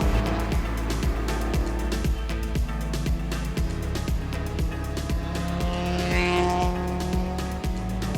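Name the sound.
race cars passing, red BMW E30 in LeMons race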